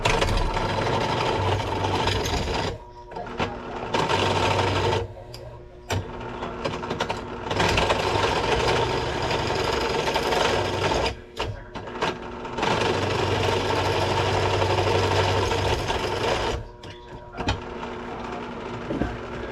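A drill bores copper fouling out of brass, its motor whirring loudly and close in repeated bursts separated by short pauses as the bit works the metal.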